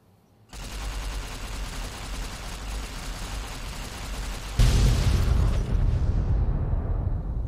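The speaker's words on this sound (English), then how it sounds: "I've got another warhead to detonate." A warhead detonation in the Fallout New Vegas Lonesome Road wasteland erupts after brief quiet into a sustained, roaring blast with rumbling crackle, then swells into a louder, deeper second surge that keeps rolling to the end.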